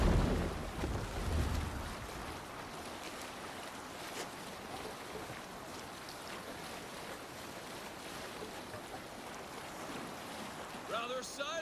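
Viking longship crossing open sea in Assassin's Creed Valhalla, with a steady wash of waves, wind and hull noise throughout, a stronger low rumble at the start and a brief tonal cry near the end.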